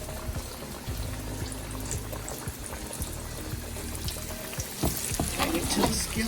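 Green tomato slices being laid into a skillet of hot oil for Southern fried green tomatoes, a dense steady sizzle and crackle with scattered pops and clatter throughout, no one talking.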